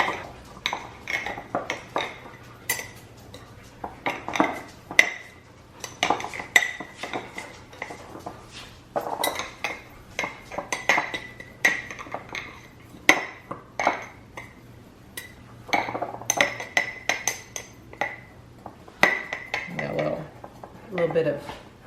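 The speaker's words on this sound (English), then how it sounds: "I'm gonna use the knife just to get the ingredients mixed in really well and evenly and down into the bottom of the jar" A knife stirs and scrapes through dry oatmeal ingredients inside a glass jar, producing repeated clinks, taps and scratchy rattles against the glass in irregular bursts, close up and fairly loud.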